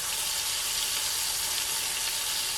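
Chicken browning in smoking-hot coconut oil in a pan, a loud, unbroken hiss and sizzle held close throughout.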